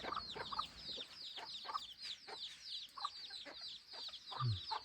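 A jungle fowl hen clucks repeatedly in short, soft bursts amid a chorus of chirping birds, all faint and outdoors at a moderate distance.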